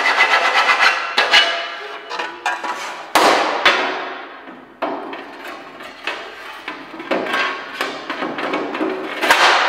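Hand file scraping along the edge of a metal part for a custom fuel tank, loud and close, in bursts of rasping strokes broken by short pauses and a few sharp knocks.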